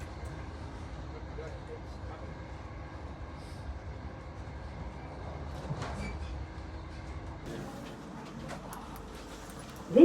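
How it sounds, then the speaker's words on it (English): Great Western Railway passenger train running through Cornwall toward Plymouth, heard from inside the carriage as a low, continuous rumble, with faint voices and a brief sharp sound at the end. "This is a Great Western Railway service to Plymouth."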